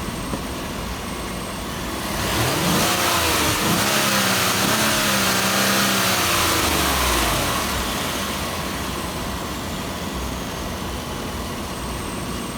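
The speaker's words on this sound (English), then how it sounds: "Let's go ahead and rev it up a bit." A 2016 Chevrolet Silverado 1500 pickup fitted with an S&B cold air intake revs up from idle, swelling into a loud, rising engine roar for several seconds before dropping back to a steady idle rumble, with no talking.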